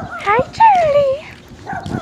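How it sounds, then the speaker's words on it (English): A neighbour's small poodle-mix dog whimpers and yips close by in short, rising and falling cries, with a person greeting it in a friendly voice. "And that's my neighbor's dog."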